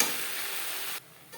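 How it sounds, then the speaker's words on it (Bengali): Potato and pointed gourd pieces fry in a pan with turmeric and salt, a soft steady sizzle that drops away abruptly near the end before a faint return; quiet and close, with no talking. "আলু পটল ভাজা হয়ে গেছে"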